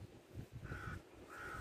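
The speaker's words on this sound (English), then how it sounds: "Oh, a bird." A crow calls twice outdoors in Venice, two drawn-out caws at moderate distance over a steady background murmur of people nearby.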